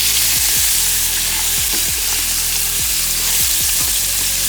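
Oxtail pieces sear in a hot pan for a braised stew, giving a loud, steady sizzle with repeated low thumps and knocks as the meat is moved, no voices.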